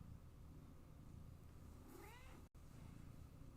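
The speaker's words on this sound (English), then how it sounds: "The cat has arrived, folks." A house cat gives a single rising, drawn-out meow near the middle, fairly close but quiet over low background hum, with no talking.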